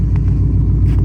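A Pontiac G8 GT sits idling to warm up on a snowy day, its engine giving a loud, steady, close low rumble with no talk.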